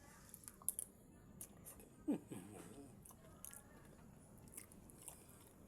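Someone eats stir-fried rice noodles with egg, soft close chewing and a few sharp bites and clicks spread over several seconds, quiet and intimate.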